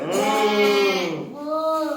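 A human voice imitates a cow mooing, giving a drawn-out, wavering lowing call close to the mic, followed by a second shorter moo.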